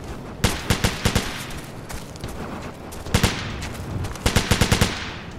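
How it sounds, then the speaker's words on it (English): Gunfire in the video game Operation Flashpoint: Dragon Rising, loud rapid bursts of automatic fire in three clusters with brief pauses, heard alone without talk. "Oh, this guy's shooting at somebody."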